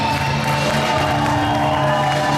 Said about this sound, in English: What an ovation for Kid Hybrid in this one!